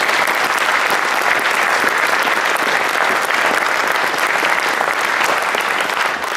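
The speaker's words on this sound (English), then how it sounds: "Another big round of applause." Loud, dense audience applause at a school graduation ceremony, steady continuous clapping from a large crowd for the whole stretch, with no talk over it.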